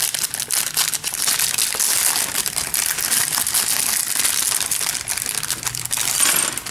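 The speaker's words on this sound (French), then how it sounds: "On a entendu les petites pièces tomber." Small plastic parts from a Fans Wanted FWI-4 Jetwing upgrade kit tumble and rattle out of a bag, a dense, steady run of light clicks and crinkles close by with no talking.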